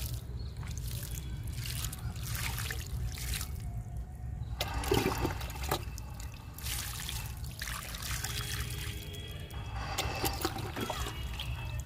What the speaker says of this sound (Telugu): ఇంకా వాటర్ ఇస్తున్నా.